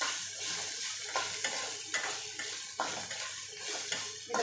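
Garlic and tomatoes frying in a pan, a quiet hiss overlaid by repeated scraping strokes of a spatula every half second or so, close by and with no voices.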